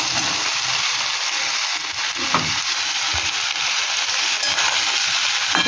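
Beans, spring onion, eggplant and potato sizzle steadily as they fry in a pan, with occasional close scrapes and knocks of a stirring utensil over the constant hiss.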